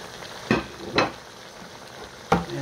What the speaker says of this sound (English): Now our lamb is nicely cooked. And we put in the onions